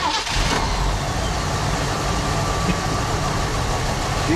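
A 1974 Ford Bronco engine runs steadily just after its first start in more than 16 years, a loud, continuous mid-pitched idle close by with no pauses and no voices.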